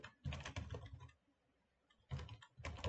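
Fast typing on a computer keyboard, two close bursts of clicking keystrokes separated by a quiet pause of about a second.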